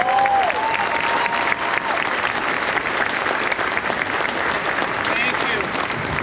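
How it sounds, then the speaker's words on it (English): Loud, dense audience applause welcoming comedian Gary Gulman at an overnight opening ceremony, a continuous wash of clapping and cheering that holds steady, with a few voices calling out from the crowd. "Now keep clapping,"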